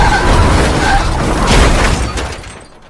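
In a film scene, a black car rams into another car at speed, a loud crash with a shattering burst that fades out over a few seconds.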